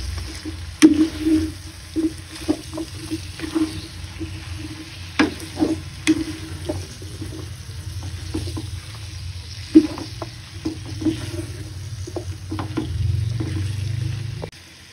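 Sayote and ground pork sautéing in a pan while being stirred, with a soft continuous sizzle broken by repeated scraping and clinking of a utensil, and a louder sizzle toward the end.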